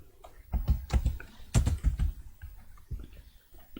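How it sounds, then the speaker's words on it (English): Someone types a formula on a computer keyboard, producing a near, irregular run of crisp key clicks with short pauses between bursts and no talking. "here I'm just going to type"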